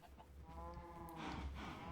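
Chickens on a Minecraft chicken farm give soft, low clucks over a faint, steady background.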